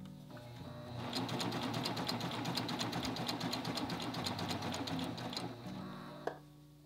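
A serger runs steadily while stitching fabric through a bias binder attachment, giving a loud, continuous rapid mechanical whir that stops abruptly near the end, followed by a single sharp click.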